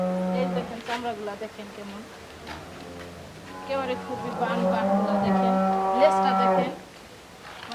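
A Friesian dairy cow on a farm gives a long, loud, deep moo in the latter half, after earlier shorter lowing, while people talk nearby.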